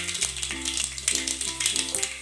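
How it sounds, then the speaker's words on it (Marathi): Mustard seeds hitting hot oil for kanda pohe, a dense, bright crackling sizzle with rapid popping, close and steady throughout. "तेल गरम झालं, मोहरी टाकू।"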